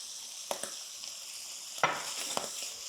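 Seafood, including squid, sizzles in a pan over high heat after crushed pepper and pepperoncino go in, with a steady frying hiss and a few sharp clinks of stirring utensils against the pan.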